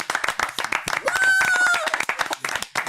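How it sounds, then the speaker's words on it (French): A studio audience claps for a countertenor in scattered, fairly close claps while a voice rises in a brief sung or called note over them, with people talking throughout. "que je vous demande d'ailleurs d'applaudir"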